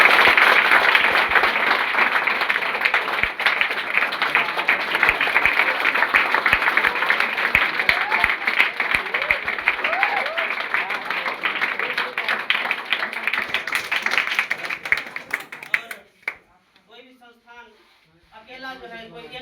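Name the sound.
loud applause from audience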